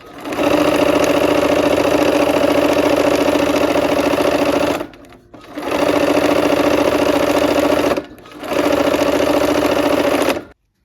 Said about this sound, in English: I'm going to go ahead and sew on that line again